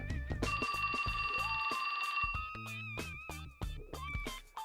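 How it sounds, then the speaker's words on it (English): A cell phone rings with a bright, sustained electronic tone in 428: Shibuya Scramble, backed by a steady rhythmic beat of game music. "That's my phone."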